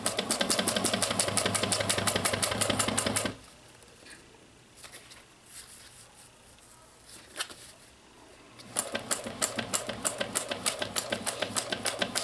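Sewing machine stitching a seam with a 3/8 inch seam allowance, a fast rhythmic needle chatter running loud for a few seconds, pausing to quiet shuffling, then resuming for a final back-stitched burst.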